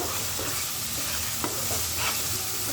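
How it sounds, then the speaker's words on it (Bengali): Blended spice paste sautéing in oil for a foli fish dish, producing a dense, continuous close-up sizzle with soft stirring scrapes and no voices. "এই ব্লেন্ডার করা মশলাগুলো সুন্দর করে এই তেলের সাথে কষিয়ে নেবেন"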